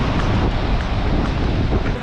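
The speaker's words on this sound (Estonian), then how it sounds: "Täna on palju laineid." Steady loud roar of wind buffeting the microphone over crashing sea surf on a rough, rainy day in the Canary Islands, continuous with no voices.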